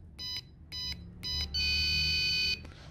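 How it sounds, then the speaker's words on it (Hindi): Arduino-driven 4x4 keypad buzzer signalling a wrong password: three short electronic beeps, then one longer, steady beep, all loud and close with no talk over them. "आप देखेंगे कि एक बीप साउंड देगा जिसमें ये बताएगा कि हमारे पास पासवर्ड रॉन्ग है"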